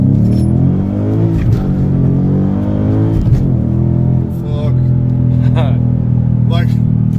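A 2015 Mustang GT Premium with the Track Pack and an SVE Stage 2 exhaust is revved in a few sharp blips that climb and fall back to a deep burbling idle, loud and close, with people talking over it.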